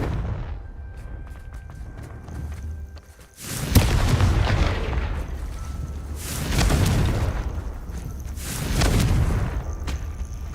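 Confringo fire curse explosions in Hogwarts Legacy, a loud booming blast followed by two more swelling explosive bursts a few seconds apart, each with a rumbling, crackling tail.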